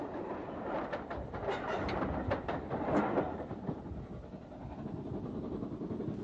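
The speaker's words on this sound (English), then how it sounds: "1953 to see the Royal Train, headed by Schools Class 440-30915 Brighton," A Royal Train headed by Schools Class steam locomotive 30915 Brighton, carrying the royal party to the Derby in 1953, rumbles past steadily with a broad roar and some rhythmic clatter, fairly loud and close, swelling mid-pass and then easing.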